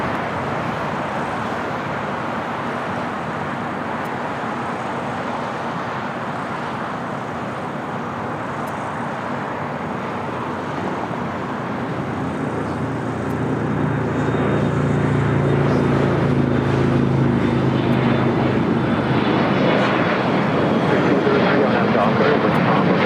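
A jet airliner takes off at LAX with a loud, broad, continuous roar that builds steadily over its length and swells further in the second half, and someone talks over it.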